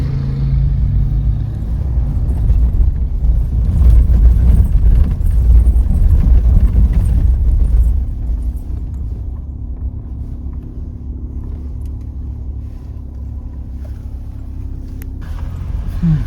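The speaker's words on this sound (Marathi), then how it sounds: "अशा गाड्या चालतात संध्याकाळी." Car engines rumble along a mountain road on the drive from Tso Moriri to Manali via the Gata Loops, a steady, loud, low drone that eases after the first half, with no talk.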